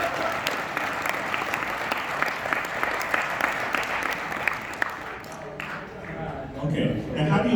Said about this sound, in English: Let's give Richard a big hand of applause